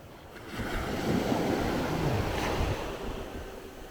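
Sea waves washing onto a sandy beach at Barton on Sea, a swelling rush of surf that builds and recedes over a few seconds, fairly close, mixed with wind buffeting and no talking.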